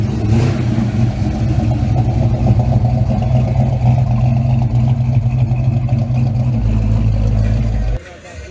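A 1,000-horsepower Dodge Challenger Hellcat rumbles loud and close on a downtown Fort Myers street, its deep engine note holding steady with rising revs before it cuts off abruptly near the end, with voices talking over it.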